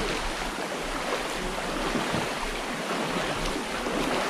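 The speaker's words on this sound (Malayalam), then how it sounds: "ഇതാ വെള്ളം." Cold mountain stream water flows steadily along the Wayanad ghat pass, a loud, continuous rushing wash close by with no talking.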